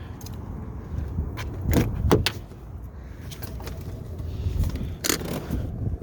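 Second-row seat of a 2006 Toyota Highlander being folded down, producing mechanical clunks, latch clicks and rattles in bursts, with a louder thud toward the end, close inside the cabin and no talking.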